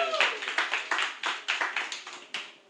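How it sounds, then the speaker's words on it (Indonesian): Audience clapping at an evening talk event in Semarang, heard as a burst of sparse, uneven hand claps from a small crowd, each clap sharp and fairly close, continuing steadily for a few seconds before fading. "Yang sudah kangen sama Pak Hendy boleh tepuk tangannya."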